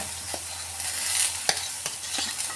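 Oil sizzles and spatters in a pan as spices with turmeric and asafoetida are sautéd for potato curry, a steady hiss broken by several sharp crackling pops and stirring scrapes.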